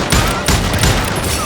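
Loud, close gunfire in the Western shooter game Call of Juarez: Gunslinger, with a steady barrage of shots landing in quick succession, including a headshot, for about a second and a half.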